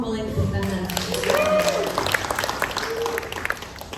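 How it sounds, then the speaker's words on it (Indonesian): A church congregation applauding after a speaker, with steady clapping from the audience through the whole stretch and some voices underneath. "Semua boleh tepuk tangan"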